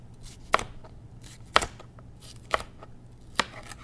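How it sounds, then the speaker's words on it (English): Knife dicing a bell pepper on a cutting board: four sharp, evenly spaced chops about a second apart, close and crisp, with no talking. "Let me get my other pepper diced."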